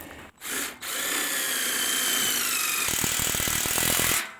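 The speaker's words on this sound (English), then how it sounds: "I believe the old DeWalt needs a good charging. Yeah, no battery's getting weak." A DeWalt cordless drill with a weakening battery runs in loud, close whirring bursts that start and stop, shifting into a rougher rattling, ratcheting grind partway through before cutting off.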